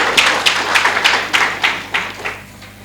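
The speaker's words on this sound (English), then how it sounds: "Can you just give another hand of applause to both people?" Conference audience applauding after two presenters, a short burst of clapping with distinct sharp claps rising and fading over a few seconds, fairly close and loud, no speech.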